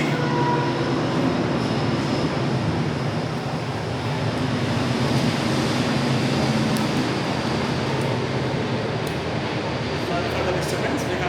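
A train rumbling past on a nearby railway track, a loud, continuous rolling roar with rattling wagon noise that fills the whole stretch, with a voice faintly under it.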